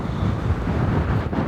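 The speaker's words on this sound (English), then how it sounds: "Very windy here" Strong wind roars across the summit of Meradalahnúkur, a volcanic peak near an active lava lake, a steady loud buffeting rush against the microphone throughout with no voices.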